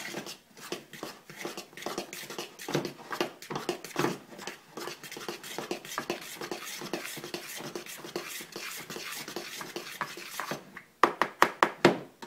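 Flour and baking powder are mixed by hand for bannock in a bowl, giving soft, irregular rubbing and tapping sounds that continue throughout, faint and close, ending in a few sharper knocks.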